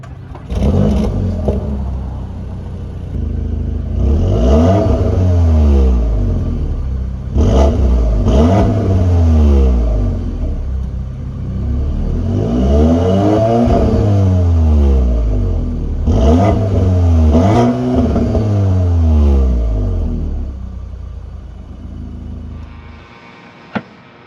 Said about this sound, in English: Let's take a listen to how the exhaust sounds.